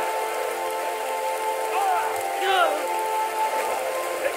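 Steady rain hiss in Battle for Middle-earth II, a continuous even wash of falling rain with faint rising horn-like calls layered over it, no talk.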